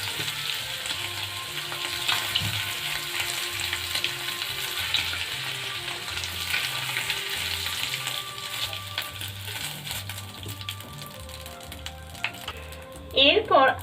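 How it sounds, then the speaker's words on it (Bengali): Cubes of paneer sizzle steadily in hot oil in a home kitchen, a continuous close frying hiss with occasional stirring, ending in a brief louder clatter. "পনিরগুলো একটু ভেজে নিয়েছি, এরপর তুলে নেব।"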